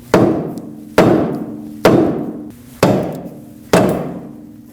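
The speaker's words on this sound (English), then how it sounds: "let's try the rubber mallet first." Five heavy rubber mallet blows strike a steering knuckle on a 2006-2015 Lexus IS250 front suspension to free the ball joint stud, each a sharp close thud with a short ringing decay, spaced about a second apart.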